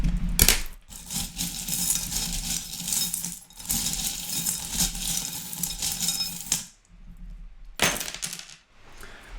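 Small metal divination charms are cast and tumble onto a surface, giving dense jingling, clinking and rattling that comes in bursts, with a short pause before a final shake.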